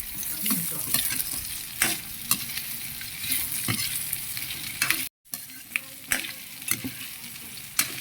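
Pork liver for igado stirred in a hot pan, a steady close sizzle of frying broken by scraping stirs and clacks of the utensil, with one brief dropout in the middle.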